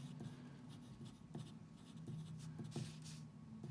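Chalk or marker scratching out an equation on a classroom board during a lecture on thermal energy balance, quiet intermittent strokes and taps with soft room noise.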